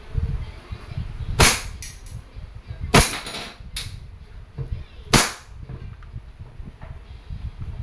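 An Umarex M92A1 Beretta-licensed airgun pistol fires three loud, close, sharp cracks a second or two apart, with a quieter slide click between them over a low rumbling background.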